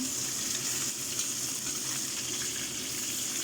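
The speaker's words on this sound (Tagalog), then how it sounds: "Ganito ako mag-fry ng isda guys para lalong masarap." Fish frying in hot oil with ginger, spring onion and salt, a steady dense sizzle and crackle close by, holding even throughout with no talk.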